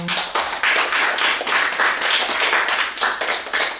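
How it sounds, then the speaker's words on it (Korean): A church congregation claps in sustained, dense applause at an Easter Sunday service, loud and continuous for several seconds with no talking over it. "우리 격려의 박수 한번"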